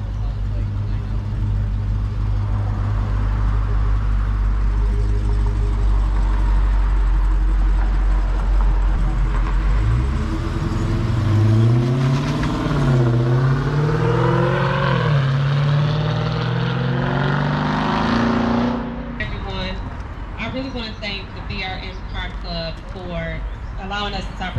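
Cars driving out of a charity car show in 2023, a rising engine roar as one vehicle accelerates past with revving pitch sweeps, then fading, amid crowd noise and people talking nearby.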